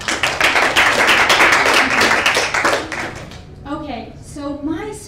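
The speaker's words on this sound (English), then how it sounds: "Give yourself a round of applause." An audience gives a round of applause at a pitch and passion talk, dense clapping for about three seconds that fades out as a voice begins speaking.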